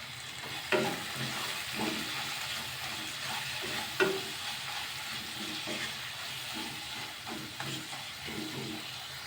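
Tomatoes sauté in a pan for potato biryani while a spoon stirs them, giving a steady soft sizzle broken by repeated scraping strokes and occasional clinks against the pan, with no talking.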